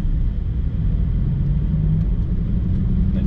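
A supercar in automatic mode, driven slowly, gives a steady, deep engine rumble that fills the cabin at an even level, with no talking.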